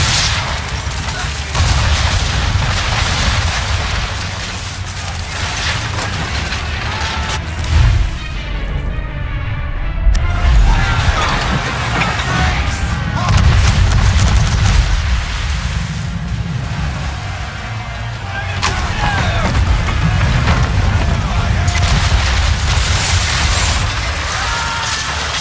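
Ship cannons boom in a naval battle in the video game Assassin's Creed III, loud, dense volleys rolling over a constant roar of wind and sea, with a short lull partway through and speaking voices mixed in.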